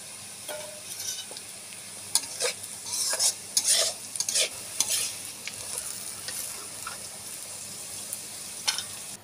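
Black cumin seeds frying in a pan while being stirred, a soft continuous sizzle broken by scattered scraping strokes and small crackles, moderately close with no talking.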